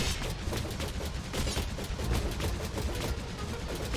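Dense, continuous gunfire from a video game shooter, a steady rattle of overlapping shots filling the whole stretch at an even loudness, with no voices over it.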